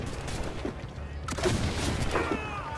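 Swivel cannon shots fired from a sailing ship in the video game Assassin's Creed Black Flag, a sharp booming report with a rumbling tail over constant sea and ambient game noise.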